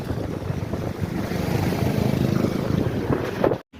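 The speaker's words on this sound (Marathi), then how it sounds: "पाऊस तर इतका जोरात चाललाय ना एकदम खतरनाक खतरनाक पाऊस पडत चाललाय" A dense, steady roar of heavy rain fills the air, broad and unbroken, with a brief cut near the end.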